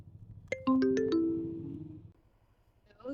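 A phone call to a Grab customer rings out: a quick run of bright, tinkling chime tones followed by a sustained tone that fades away, with a faint voice stirring at the end.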